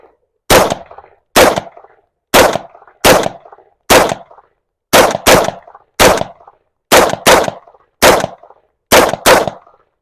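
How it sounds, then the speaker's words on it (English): Suppressed B&T GHM 9 pistol-caliber carbine firing about 15 rounds in spaced pairs and singles, sharp cracks at close range with short decays between, no talking. "All right, get through 15 rounds pretty quick."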